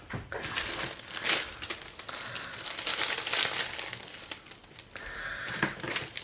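A plastic baggie crinkles and crackles close up, several uneven bursts of bright rustling over about six seconds.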